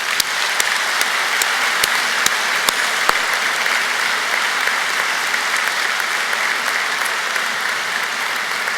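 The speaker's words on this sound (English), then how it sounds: "So I'm sure you'd like to join me now in giving them a warm round of applause." Graduation audience at Glasgow Caledonian University applauds the university staff, a loud, sustained wash of many hands clapping together in a large hall, with a few sharper individual claps standing out early on.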